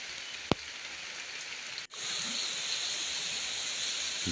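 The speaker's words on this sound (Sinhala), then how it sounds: "දැන් නම් ආයෙත් හොඳට වැස්ස වැඩි වෙනවා" Rain pours down in a garden, a continuous close hiss that briefly drops out and then returns stronger and heavier, with a single sharp knock near the start.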